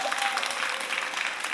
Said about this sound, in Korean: 이때는 약간의 박수가 필요할지도 모르겠습니다.